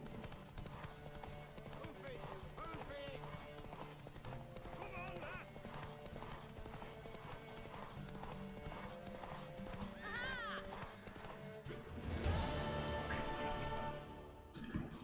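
Hooves clip-clop steadily in a gallop with a horse neighing in The Witcher 3: Wild Hunt, set against a game music bed and voices, with a louder crash of activity near the end.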